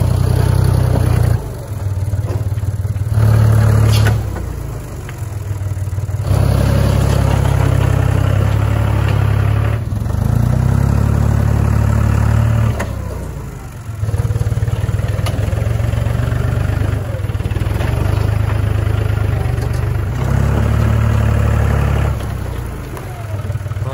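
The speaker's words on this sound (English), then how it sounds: "That's about what I can get scraped up with the tractor here." A tractor engine runs steadily and loudly close by while scraping yard dirt for a drainage swale, its low rumble rising and dipping in several surges as the load changes.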